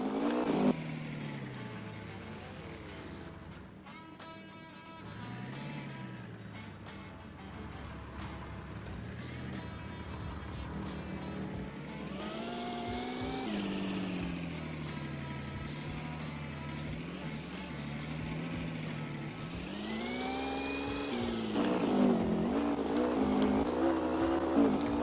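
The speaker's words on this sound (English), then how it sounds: "you've seen that pickup truck basically climb up that hill" A pickup truck grinds up a steep off-road hill, its engine droning and straining steadily and rising toward the end, with whining tones over a continuous rumble.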